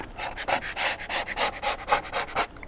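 Oil pastel being scraped across paper in a landscape drawing makes rhythmic close rasping strokes, about a dozen in quick succession with no talk.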